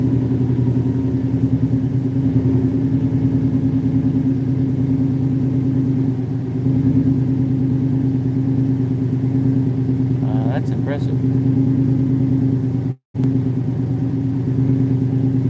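A Fox body Mustang V8 with an E303 cam idles with a loping, lumpy rumble through its exhaust, steady and close, while someone briefly speaks over it near the end.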